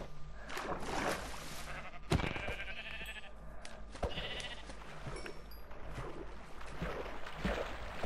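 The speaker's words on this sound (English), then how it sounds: "a lot of sheep" Sheep bleat in a video game, several calls scattered over steady background game noise, moderately loud and without talk.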